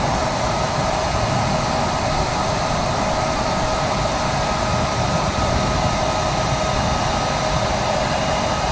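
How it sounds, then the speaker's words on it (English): A private Learjet's engine drones in a loud, unbroken roar that stays constant throughout, with no talk over it. "Can somebody turn down the volume on the plane"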